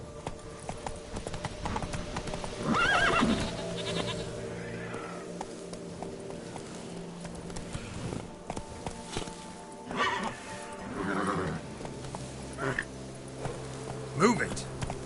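Roach, the player's horse in The Witcher 3: Blood and Wine, gallops with steady clip-clopping hooves and lets out several whinnies, while a voice speaks to the animal over the game's ambient music.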